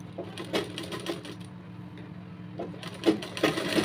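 A sewing machine stitches a kanchli blouse in two short runs of rapid mechanical chatter, near and moderately loud, with a brief lull between them.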